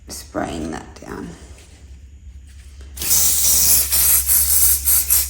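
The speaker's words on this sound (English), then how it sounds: "And then spraying that down." Fixative spray hisses steadily over a soft pastel drawing of Uluru, a loud broadband spray starting partway through and running in short, close bursts after a few seconds of quiet talking.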